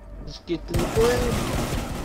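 Burst of gunfire in the tactical shooter game Rainbow Six Siege, a dense rattling stretch of shots that starts abruptly and continues steadily at moderate loudness over game background noise.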